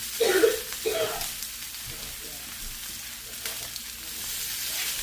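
Picanha steak sears in olive oil in a hot pan, giving a steady, close sizzling hiss throughout, with a brief voice near the start.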